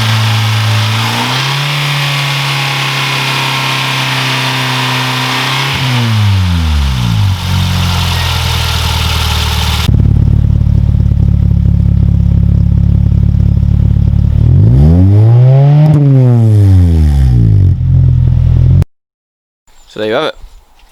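A car engine fitted with a newly installed pod air filter revs repeatedly, rising and falling in loud, close sweeps over an idle, with a brief pause near the end before a final blip.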